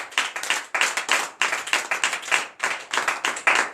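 A church congregation at a night deliverance prayer service in Comè, Benin, claps in acclamation of the Lord: a loud, steady run of rhythmic hand claps in bursts, close and alone with no talking.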